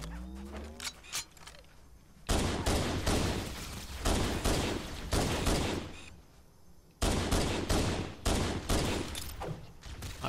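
Gunfire and a grenade in Halo CE on Legendary: dense bursts of rapid shots in clusters, with loud explosive bangs at roughly two and seven seconds, close and busy with no talk over them.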